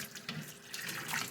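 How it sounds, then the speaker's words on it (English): Hot water runs from a tap into a container to be filled about halfway for mixing sugar feed for bees, a steady close rushing stream with no speech. "I'm going to fill it up about halfway with hot water"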